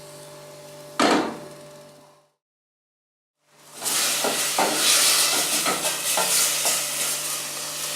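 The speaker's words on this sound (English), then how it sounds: "Give that a little stir and then let it stick to the bottom of the pan." Beef and vegetables sizzle loudly in a stew pan while being stirred, with steady frying hiss and scraping, then a short silent break before the sizzling resumes strongly.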